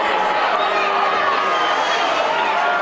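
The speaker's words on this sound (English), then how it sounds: "a crowd getting vocal down in front of us here" Football crowd at a 2022 BRFL senior men's grand final, Ngukurr against Katherine Camels, roaring and chattering as a continuous loud wash of voices, steady throughout with no single voice standing out.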